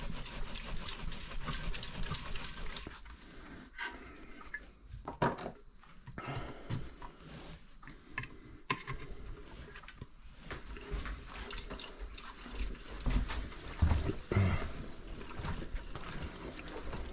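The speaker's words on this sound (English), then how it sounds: "Just cover these up and slosh it around." Evapo-Rust sloshes inside a rusty 1984 Yamaha Virago motorcycle fuel tank, a continuous watery swirling and gurgling with occasional louder splashes, close and fairly steady.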